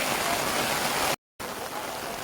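Steady rain pours down in a dense, even hiss at a friendly football match, broken by a brief moment of complete silence before the downpour continues.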